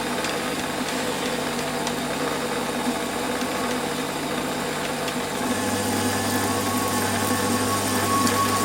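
A lathe running at about 750 RPM takes a 2 mm facing cut, giving a steady mechanical hum and whir with a low tonal drone that shifts partway through. It is continuous and fairly loud, with no talk.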